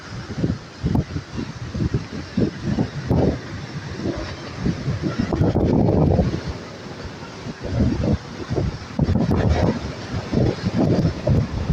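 Typhoon Carina drives strong gusting wind and large waves against a coastal area in the Philippines, a loud, continuous roar of wind buffeting the microphone with surging pulses of surf that swell and ease.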